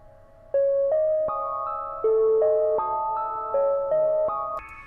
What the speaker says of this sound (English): And that will just slow down the melody.